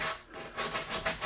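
A torn-off piece of sanding belt is rubbed by hand across a wooden timber-frame part. A close, rasping scrub repeats in quick back-and-forth strokes with no pauses and no voices.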